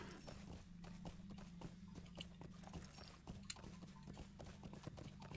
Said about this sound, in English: Duh, I have a horse.